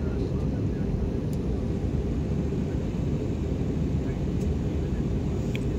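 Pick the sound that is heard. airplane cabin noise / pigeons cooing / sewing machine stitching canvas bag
airplane cabin noise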